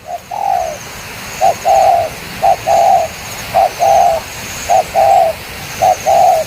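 A trained decoy dove coos close and clear, repeating about six short two-part phrases in a steady rhythm over a faint outdoor background.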